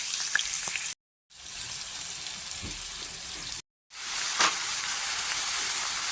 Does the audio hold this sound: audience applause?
no